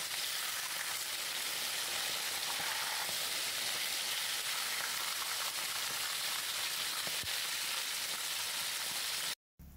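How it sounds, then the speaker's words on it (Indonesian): Fish frying in hot oil over medium heat, a steady dense sizzle and crackle running continuously and close up, with no voices, cutting out abruptly just before the end. "goreng ikan dalam minyak panas api sedang"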